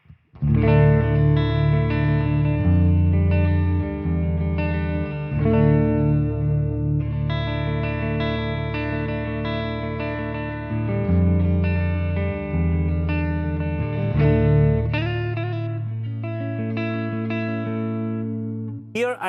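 An electric guitar plays distorted chords and notes through a Marshall amplifier and cabinet, loud and sustained, with the final chord ringing out and fading.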